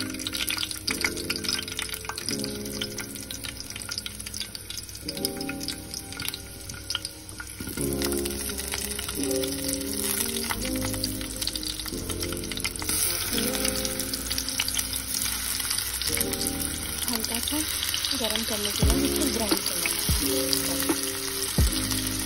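Soaked chickpeas, potato, garlic and curry leaves frying in hot oil in a home kitchen, a steady close sizzle and crackle running throughout with occasional stirring clatter and a brief splash of water.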